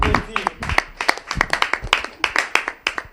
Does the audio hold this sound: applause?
yes